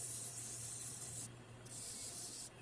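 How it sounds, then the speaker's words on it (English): A wooden pen is cross-sanded with 220-grit sandpaper, giving close, quiet, hissy rasping strokes that pause briefly between passes. "I'm cross sanding, get rid of some of the swirl marks."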